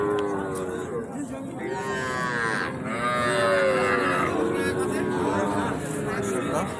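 Heifers and young bulls low repeatedly at a crowded cattle market in Ambari, with drawn-out moos rising over a steady background of people talking.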